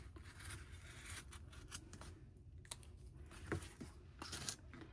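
Scissors snip through paper, cutting out traced shapes for a needlework basket craft; a steady run of close, soft crisp cuts and rustles, with no talk.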